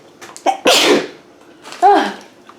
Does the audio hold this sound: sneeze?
yes